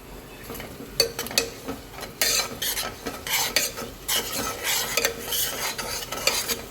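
Onions and masala cook in a pan for a cowpea curry, with bursts of sizzling and utensil scraping as the mixture is stirred in uneven strokes, close and moderately loud, without speech.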